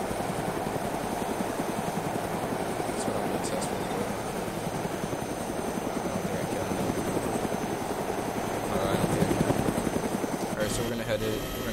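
A helicopter's rotor thumps steadily throughout in the video game DayZ, a continuous close chopping drone with faint electronic beeps in the background.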